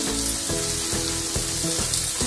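A mixture seasoned with coriander-cumin powder, salt and a little sugar sizzles in a pan, and a spatula scrapes it in quick rhythmic strokes. The sound is close and continuous, with no talk.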